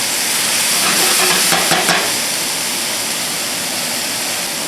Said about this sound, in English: You can see those mushrooms cooking down slowly and just getting nice and soft.